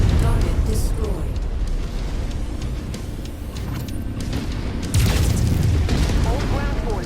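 Explosions tearing apart an enemy base in the video game MechWarrior 5: Mercenaries, a steady roar of blasts and rumbling destruction with a sharper burst near the end, dense and loud throughout.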